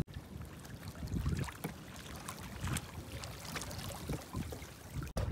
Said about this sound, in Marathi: चला आपली होडी निघालेली आहे